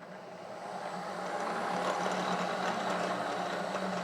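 A Kearney and Trecker milling machine spinning up toward 1600 RPM, a steady broadband mechanical whir with a low hum that swells over the first two seconds and then holds at a constant loud level.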